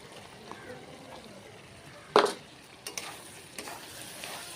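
Chicken mince and capsicum sautéing with spices in a pan make a faint, steady sizzle, broken by a sharp clatter of stirring near the middle and a few lighter knocks afterward.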